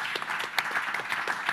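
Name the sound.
audience applause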